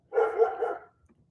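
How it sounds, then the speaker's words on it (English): Dogs bark in a quick burst of several overlapping barks lasting under a second, fairly close and loud, then fall quiet, with no talk over them. "What's going on with the dogs? Chill out."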